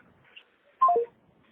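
A telephone keypad sounds a quick run of short DTMF dialing tones, a few stepped beeps in under a second, loud and close against near silence.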